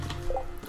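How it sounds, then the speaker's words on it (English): Watering can pouring onto a cactus in the farming video game Stardew Valley, a short soft splashing drip effect heard once, fairly quiet and alone. "Water the cactus."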